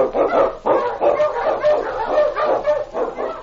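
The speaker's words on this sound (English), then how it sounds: "The Wonder Dog King, swiftest and strongest of Eskimo lead dogs, blazes the trail through storm and snow" An Eskimo lead sled dog barks and yips in a steady run of short, loud calls with a whimpering edge, close and continuous.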